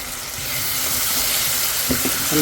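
Crushed garlic goes into a hot pan for a dried fish curry and sizzles loudly and steadily, a broad close hiss that swells slightly, with a few faint knocks near the end and no talking.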